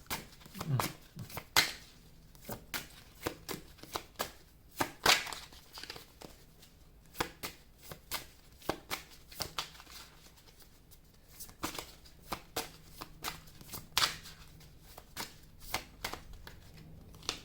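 Playing cards are shuffled and dealt at a table, giving quiet, irregular riffles, flicks and snaps close by, with faint voices now and then.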